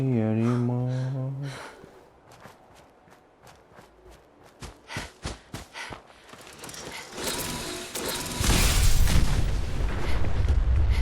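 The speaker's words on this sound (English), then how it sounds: "Car explosions in this are pathetic." A car explosion in a video game: a loud, broad booming roar rises near the end and keeps rumbling, after a run of sharp thuds and a tonal sound at the start.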